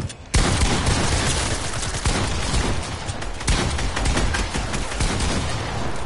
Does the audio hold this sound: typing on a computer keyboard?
no